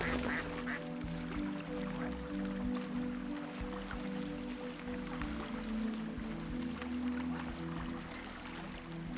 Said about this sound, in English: Out of the way, ducks.